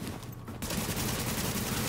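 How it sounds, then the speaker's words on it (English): An unsuppressed SCAR-L rifle fires in The Division video game, a loud rapid burst of shots that starts abruptly partway in and continues densely to the end. "This gun is loud as fuck, though. I haven't got a suppressor on this, obviously."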